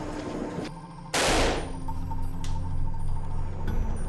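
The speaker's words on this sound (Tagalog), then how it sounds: "Ang gamit na baril ni PFC Ambulo may balang kayang umabot ng 600 meters" A single loud, close rifle shot from a designated marksman's rifle with a roughly 600-metre range cracks out after a quieter stretch, followed by lingering outdoor rumble and a faint later metallic click.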